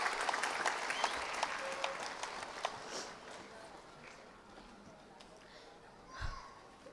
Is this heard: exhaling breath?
no